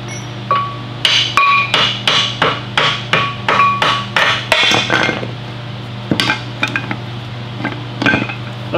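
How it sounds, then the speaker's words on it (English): Metal-on-metal hammer blows drive out the brake caliper wedge on a Dana 60 front axle, a rapid run of about a dozen ringing strikes, then a few scattered, sharper hits after a pause. "Drive out the wedge, the keeper spring, depending on how frozen the caliper is."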